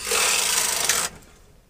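A knitting machine carriage slides across a bed of needles in a loud, steady, close whooshing rasp lasting about a second, then cuts off to quiet room tone.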